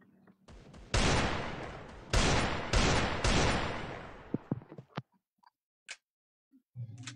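Rapid bursts of video game gunfire, several loud volleys packed close together, followed by a few scattered single shots and quieter clicks near the end.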